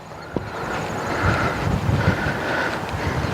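Steady wind rushes and buffets across an open golf course by a bunker, a broad continuous roar with a faint brief knock near the start and no talking.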